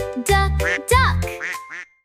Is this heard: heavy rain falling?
no